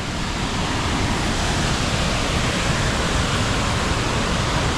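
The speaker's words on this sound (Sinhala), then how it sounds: "අද නම් වතුර පාර සෑහෙන්න වැඩි." Steady, loud roar of rushing water pouring down without a break, a dense wall of noise with no voices over it.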